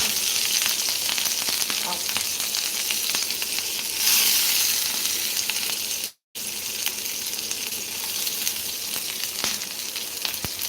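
Tempering for curd rice frying in a pan, a loud steady hiss and sizzle of spices hitting hot oil with faint stirring scrapes, briefly cutting out for a moment before resuming.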